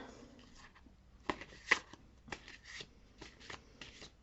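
Moon oracle cards are shuffled and drawn, with several short riffling bursts and soft card slides, close and fairly quiet, separated by brief pauses.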